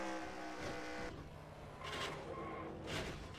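Race car engines drone steadily while a sharp crunching impact and scraping noise cut through as a car hits a guardrail rear-first during a Qualcomm Series R9 S1 Sun Drop 250 race, with bursts of harsh noise at intervals.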